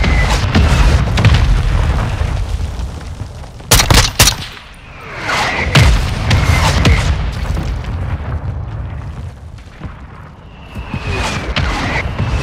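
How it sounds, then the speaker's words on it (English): Mortar strike explosions in Call of Duty: Modern Warfare II, loud booming blasts and sharp crackling bursts of gunfire rolling through a battlefield, with a sudden heavy impact near the middle and rumbling tails between hits. "Mortar strike on the way."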